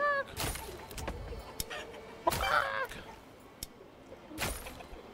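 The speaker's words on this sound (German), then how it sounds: "So, noch mehr Hühner." Chickens cluck in a Manor Lords village, with a few short clucking bursts over a low ambient bed and brief clicks, fairly faint and without talk.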